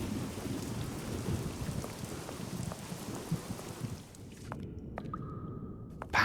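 Heavy rain and thunderstorm at night in Sherlock Holmes The Awakened, a dense steady downpour hiss with low rumbling thunder that drops away near the end, leaving faint isolated drips and tones.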